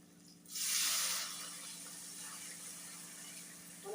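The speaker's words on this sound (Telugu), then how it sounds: "మనము ఒకటికి రెండు గ్లాసుల వాటర్ పోసుకోవాలండి" Water gushes into a pan of fried onions and salt for rice rava upma, starting with a loud splashing rush that settles into a softer, steady hiss.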